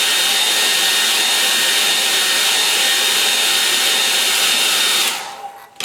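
A loud, steady whooshing whine of a hair dryer blowing close by, running continuously before abruptly switching off near the end.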